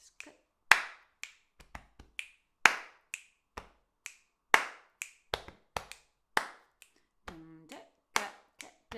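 Body percussion of sharp finger clicks, hand claps and chest hits in a repeating rhythmic pattern, crisp and close, with a brief hummed or sung fragment near the end.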